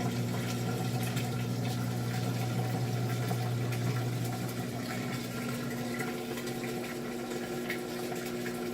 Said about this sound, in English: on the Maytag here we have the drain going on right now.